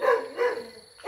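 A dog barks nearby in a village, a few sharp yelping barks in quick succession, loud and close.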